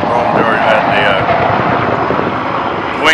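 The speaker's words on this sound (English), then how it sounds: "the helicopter was going by here in Rome" Helicopter passing over Rome, a steady broadband rotor and engine roar filling the whole stretch at fairly loud, constant level, with a brief swell near the end; no one speaks.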